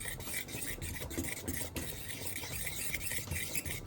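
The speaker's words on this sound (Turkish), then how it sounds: "Bu karışıma hardal, mayonez ve karabiberi de ekleyip pürüzsüz bir kıvam alana kadar karıştırıyoruz" Honey mustard sauce with mayonnaise and black pepper being stirred to a smooth consistency, a steady scraping and rubbing of a utensil in a bowl with repeated short strokes, close and moderately loud, with no talk.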